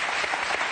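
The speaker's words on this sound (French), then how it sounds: "On les applaudit très fort" Brief burst of studio audience applause on a French Sunday TV show, dense steady clapping filling the moment.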